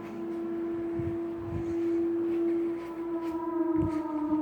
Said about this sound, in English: It sounds like a siren, that's all I know.